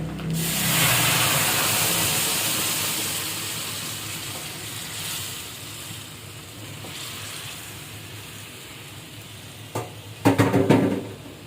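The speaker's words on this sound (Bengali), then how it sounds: "ডালটা ঢেলে দিচ্ছি।" Cooked dal is poured onto fried onion and egg in a hot pan, bursting into a loud sizzle that slowly fades to a quiet simmer before a few brief utensil clatters near the end.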